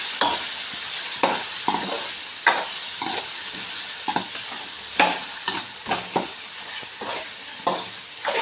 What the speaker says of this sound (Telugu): మసాలా పెట్టుకున్న వంకాయలు వేసుకొని ఒకసారి ఇలా కలుపుకోవాలి